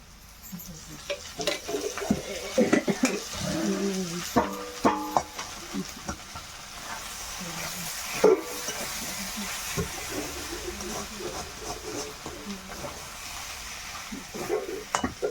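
Oil sizzles in a pan while potatoes are cooked, a quiet hiss that runs throughout beneath clattering of utensils, a few knocks and scrapes, and a short patch of muffled tonal sound partway through.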